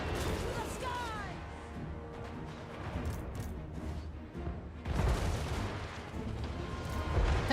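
Cannon and Hellstorm rocket artillery fire in a Total War: Warhammer 3 battle, a dense continuous barrage of booms and crashes with heavier blasts toward the end, mixed with battle noise and voices.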